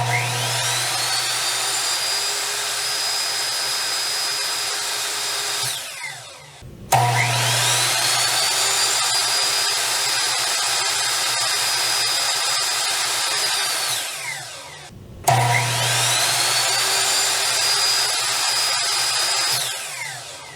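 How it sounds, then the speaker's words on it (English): A Ryobi 10-inch compound sliding miter saw powered from a portable power station spins up with a high whine three times, each run holding steady for several seconds before winding down, loud and close with no talk. "the next tool I want to test on the power station is this Ryobi 10-inch compound sliding miter saw"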